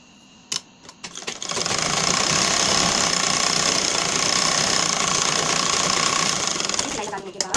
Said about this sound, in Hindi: अब हम नीचे तरफ को आधा इंच की सिलाई लगा लेते हैं।